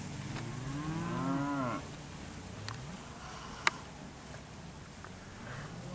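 Cattle at a ranch sale at Bar L Ranch in Marianna, Florida, give a long, clear, wavering moo. Fainter lows, scattered hoof clops and sharp knocks follow against steady background hiss.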